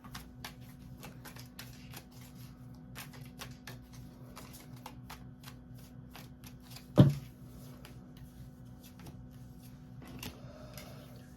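Tarot cards shuffled by hand in a quiet room, a steady run of soft riffling flicks with one louder slap or tap near the middle, no talking.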